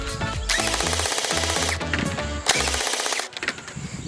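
A custom-built S40 Lone Wolf gel blaster runs on an 11.1 volt battery, firing loud rapid full-auto bursts with short pauses between strings of shots, the motor whirring and gels cracking out in quick succession.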